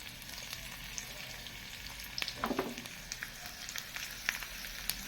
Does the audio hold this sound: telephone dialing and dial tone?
no